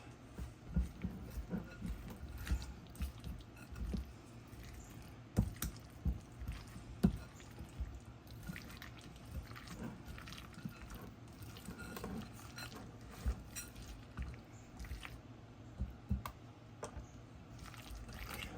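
Chopped egg mixed into a dish, soft wet squishing and spoon taps repeating steadily at close range for a long stretch, quiet and without talk.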